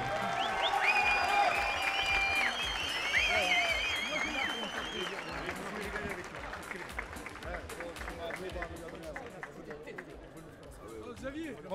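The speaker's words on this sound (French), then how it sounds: "je voudrais vraiment qu'on applaudisse le coin bleu, Xavier Vaccaris." A crowd applauds a blue-corner fighter at a combat sports event, steady clapping and cheering filling the hall, with an announcer's voice and chatter running over it throughout.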